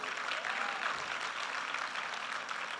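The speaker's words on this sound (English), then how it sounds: "may I request applause" A school audience at an annual day function gives steady, moderately distant applause, an even wash of many hands clapping throughout the short stretch.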